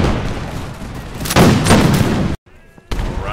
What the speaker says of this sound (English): Do a few more volleys against the cavalry